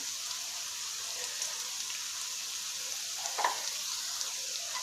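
Spices with salt, turmeric and red chili cooking alongside spinach and potato in a pan, a faint, steady low sizzle with a single soft stir or tap near the end.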